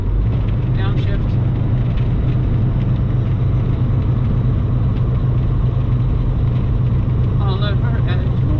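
A car engine hums at steady revs after a downshift on a freeway, a continuous rumble with road and wind noise and faint speech over it.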